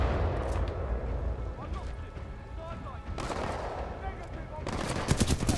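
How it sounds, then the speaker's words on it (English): Gunfire in the video game Titanfall 2, repeated bursts of rapid automatic shots and booming blasts, loud and close, with someone talking over part of it. "I'm gonna shoot him right in the knee"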